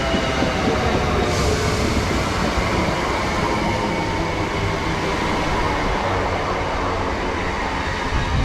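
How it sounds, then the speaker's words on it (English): Class 319 electric multiple unit pulling into East Didsbury station on a Crewe service, a steady, loud rumble of wheels and traction throughout with no speech. "Also coming in here we have 319366 going to Crewe."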